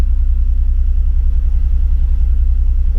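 A vehicle engine idles close by with a steady, deep rumbling throb, even pulses repeating without change for the whole few seconds.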